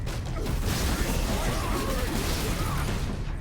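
Dense, continuous roar of a melter cannon firing in Warhammer 40K: Space Marine, a steady loud blast with crackling bursts and no pauses.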